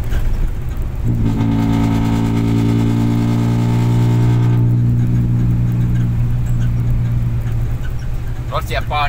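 A car with a loud exhaust revs up close by, its deep droning note climbing and holding for several seconds before easing back toward idle, with brief faint clatter near the end.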